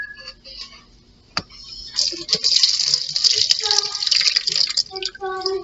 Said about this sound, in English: pour your milk and vinegar mixture into the strainer